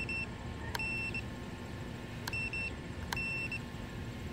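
A Kingkong Fly Egg 130 drone's motor spins with a faint, steady whine under quiet background hiss, broken by three sharp electronic beeps, each followed by a short chirping tone.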